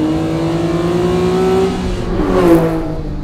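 A 1999 Acura NSX with a 3.2-litre V6 revs up close and loud, its pitch climbing steadily and then peaking sharply before it drops back, with no talking.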